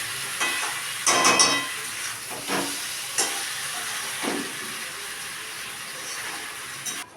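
Green jackfruit curry sautés in oil in a pan, with quiet sizzling and hiss broken by a few short, brighter spits and bursts of frying.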